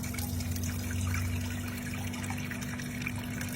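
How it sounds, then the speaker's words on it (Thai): Water is drained off shredded cabbage being prepared for three-flavor pickled vegetables, a continuous trickling splash heard close up and alone, over a low steady hum. "นะคะเทน้ำออกนะคะ"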